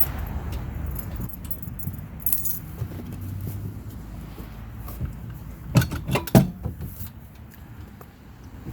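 A metal locking pin is fitted to a bike carrier on a Tesla Model 3 trailer hitch, making a few quiet rattles and then a quick cluster of sharp metallic clinks and knocks near the end.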